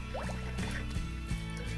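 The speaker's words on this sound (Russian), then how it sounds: "Сливаем воду." Water drains and trickles out of a small jar, a faint gurgling and splashing pour heard close up with no talking.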